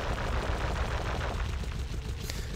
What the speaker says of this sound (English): This gun is weird because you actually can't do too much sniping from afar.